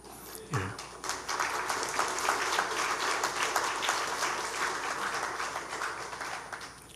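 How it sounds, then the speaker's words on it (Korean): A church congregation applauds during a Sunday worship service, a steady wash of many hands clapping for several seconds after a brief low thump at the start, fairly close and full. "잘했다고 박수하는 것 같아서 민망스럽네요"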